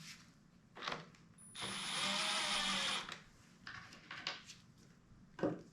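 Screws are driven into the aluminum housing of a Husqvarna 125BV leaf blower during a repair: a few light mechanical clicks, then one sustained whirring buzz of a driver for about a second and a half, followed by more scattered clicks, close and moderately loud.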